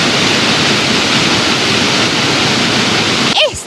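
A waterfall pours into a rock pool at a sacred site in Colombia, a loud, constant broadband roar filling the scene close to the listener before cutting off abruptly near the end.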